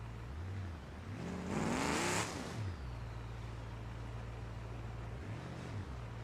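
A twin-turbocharged 5.7 V8 vehicle driving, with a steady low engine drone that swells into a brief rev midway and settles back to a cruising hum.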